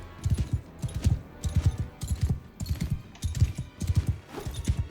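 A horse gallops in the medieval combat game Mount & Blade II Bannerlord, its hooves drumming in quick, evenly spaced clusters of dull thuds. The beat is steady and close, with no voices over it.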